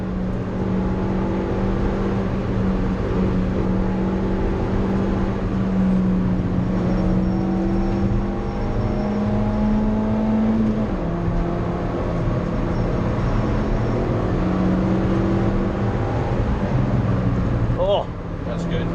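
Several cars lap the Nurburgring at pace, a steady engine drone with shifting pitch as they accelerate and pass, continuous and fairly loud throughout, with voices talking over it.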